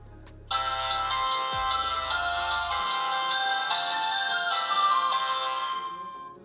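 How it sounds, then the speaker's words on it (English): An itel It2163 dual SIM feature phone plays its startup tone, a loud bright melodic chime of stacked ringing notes lasting several seconds, with low electronic buzzing under its first few seconds before it fades at the end. "You heard that, that's the opening tone."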